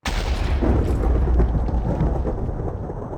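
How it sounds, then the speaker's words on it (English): Thunder from a lightning strike during daytime in Minecraft, a single loud, deep rumbling crash that rolls out and slowly fades over a few seconds, with no talk. "how is there lightning during the daytime?"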